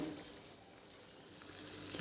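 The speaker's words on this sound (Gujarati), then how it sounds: "દોઢ વાડકી પાણી એડ કરીશું આપણે" Water is poured into a pan on the stove for Maharashtrian besan pithla, a steady close hissing pour that swells louder partway through the brief moment.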